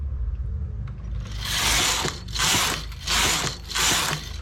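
A knitting machine carriage sweeps back and forth across the needle bed while a cabled knit is worked, making four loud, rasping mechanical passes with short pauses between them and no talk.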